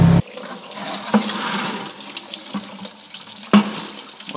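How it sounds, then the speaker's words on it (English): Water drains out of a Mitsubishi Lancer Evo 8 engine, running and splashing steadily, with a few louder gurgles and drips over a continuous flowing hiss. "Well, that water drains out."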